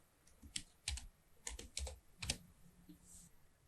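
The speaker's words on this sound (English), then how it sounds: "Start typing the required content." Keys tapped on a computer keyboard while entering table data, in quiet, uneven clusters of crisp clicks with short pauses between them.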